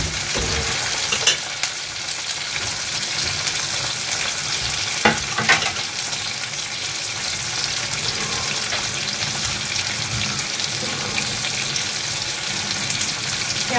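Chopped tomato dropped onto onions already frying in a pan for masala dosa, a loud steady sizzle with occasional stirring scrapes and brief sharp bursts, no voices.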